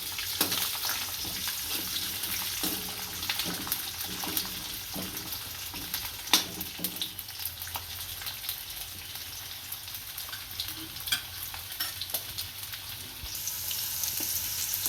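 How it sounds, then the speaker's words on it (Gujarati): Whole garlic cloves fry in oil with cumin seeds, giving a continuous crackling sizzle with fine rain-like pops and occasional stirring knocks, close and moderately quiet throughout. "આને હવે સારી રીતના તેલમાં સળવા દેશું।"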